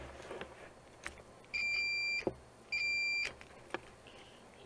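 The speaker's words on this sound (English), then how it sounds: "So you have a continuity tester, and you just want to make sure all the pins have continuity." A continuity tester on HVAC motor pins sounds two clear, steady electronic beeps, each about two-thirds of a second long, over faint background clatter.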